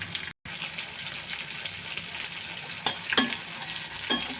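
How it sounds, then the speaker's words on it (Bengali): Spiced pabda fish frying in a pan, a steady crackling sizzle with a few stirring scrapes and clinks near the end, fairly close and alone without talk. "দেখো মাছ আমার সুন্দর ভাজা হয়ে গেছে"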